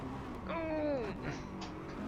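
A race car engine in the video game Driveclub, a smooth rising and falling engine whine that lasts about half a second, sitting in a steady background rumble.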